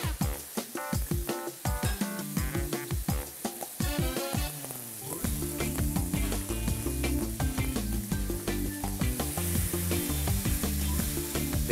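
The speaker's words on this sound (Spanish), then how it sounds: "tomamos el hígado y ya lo ponemos sobre la sartén a que se vaya cocinando" Beef liver frying in a skillet, a steady sizzle running throughout beneath loud, prominent background music that largely covers it.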